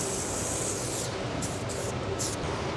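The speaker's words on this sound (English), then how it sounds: "I like to shoot my sealer at like 25 to 24 PSI" A SATAjet spray gun sprays waterborne sealer at around 24 to 25 PSI onto a new truck bedside, a loud, continuous close hiss with brief bright surges near the end.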